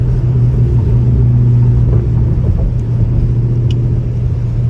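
A catless Dodge Charger Scat Pack in custom track mode cruises on light throttle, giving a steady, fairly subdued low exhaust rumble from inside the car with no revving.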